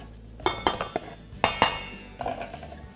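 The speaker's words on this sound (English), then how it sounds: "you're going to stir everything together. make sure it's coated really, really good." Spoon scraping and clinking against a bowl while granola mixture is stirred, several sharp close clinks in an irregular rhythm with quieter mixing between them.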